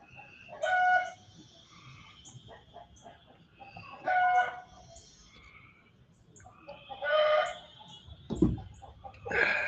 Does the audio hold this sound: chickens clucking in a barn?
yes